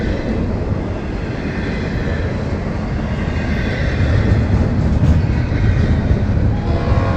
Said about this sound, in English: Do I hear the 905 rolling, creeping down here?